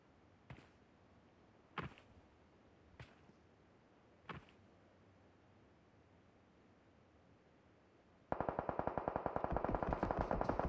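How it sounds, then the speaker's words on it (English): Video game gunfire in a Halo esports scrim: four sharp, evenly spaced single shots, then a sudden sustained burst of rapid automatic fire to the end, with no talk. "the shots now flying up towards Halo as they also start rushing in"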